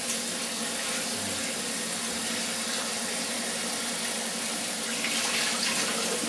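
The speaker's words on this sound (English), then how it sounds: "just wash them with tap water. Warm tap water." Warm tap water running to rinse coconut pieces in a bowl, a continuous hissing splash that stays steady throughout with no talking.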